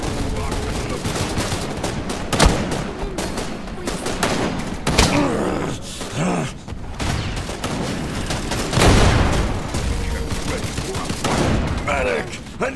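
Dense automatic gunfire and bursts crackle almost nonstop through a Wild Assault multiplayer firefight, loud and close, with scattered heavier thumps under it.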